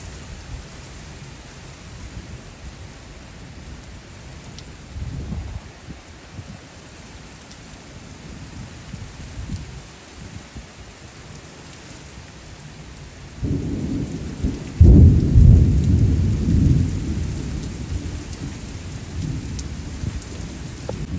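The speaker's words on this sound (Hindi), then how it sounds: "बारिश काफ़ी तेज़ है, हद नज़र भी कम कर दी है इसने" Heavy monsoon rain pours steadily under strong wind, with a rumble of thunder building midway and swelling into a loud, close roll before easing back into the downpour; no voices.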